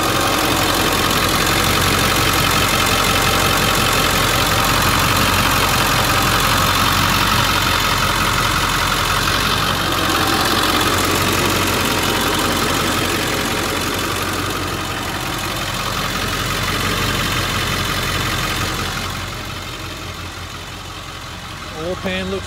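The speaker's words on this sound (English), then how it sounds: "I left it running, idling, because a customer had asked about leaks." A 2001 Ford F350 Lariat Super Duty crew cab dually 4x4 with the 7.3 Power Stroke diesel idles steadily, a dense, even clatter and drone that holds constant and eases slightly near the end.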